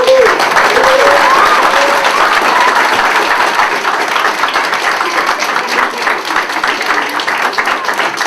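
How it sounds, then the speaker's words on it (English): Wedding guests applaud the newly married couple at the ceremony, a steady full burst of clapping from a crowd that holds loud throughout, with a few brief vocal whoops and cheers rising over it near the start. "We'll give them a round of applause."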